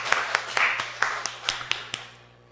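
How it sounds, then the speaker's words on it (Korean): A church congregation claps in a sparse, scattered way, a handful of distinct claps over a low steady hum. "박수 한번 해주세요"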